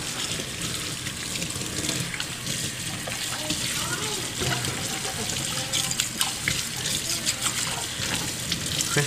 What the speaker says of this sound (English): And we're going to rinse it off.